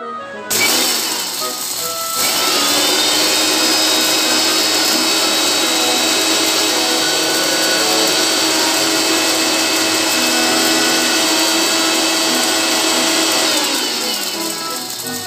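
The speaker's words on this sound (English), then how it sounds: "take the same 1 cup sugar and put it in my blender and powder my sugar as well" A blender grinds one cup of granulated sugar into powder, a loud, steady high whir that starts abruptly, holds for about thirteen seconds and winds down at the end, with no talking.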